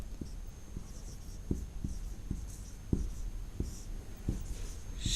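Chalk or marker strokes on a classroom board during a science lesson, a series of short, sharp taps and scratches in an irregular writing rhythm over a quiet room hum, with no talking.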